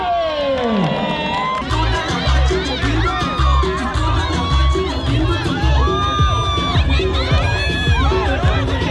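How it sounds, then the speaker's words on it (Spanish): A crowd at a campfire gathering cheers and whoops loudly with children shouting, lively upbeat music thumping underneath throughout. "aplauso para el doctor Juárez"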